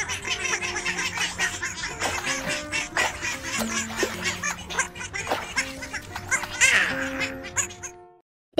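Ducklings quack and peep in a busy, continuous chorus, with bright high calls overlapping steadily close by before fading out near the end.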